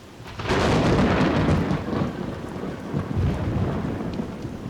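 A thunderstorm with rain: a loud rolling rumble of thunder swells early and slowly fades, over a steady hiss of falling rain, with no voices.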